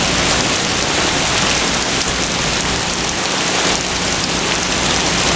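Heavy rain pounding down in a severe thunderstorm in Brooklyn, New York, heard from under a shelter as a dense, loud, unbroken roar of falling water, with no talking.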